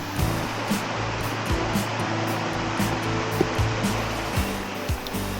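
A mountain valley stream at Suraksan rushes steadily nearby, a continuous broadband wash of flowing water with a faint low hum underneath and no voices.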